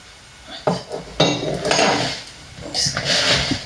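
A spoon scraped and knocked against a mixing bowl full of salt dough, a series of close clatters, clinks and scrapes that rise and fall over a few seconds.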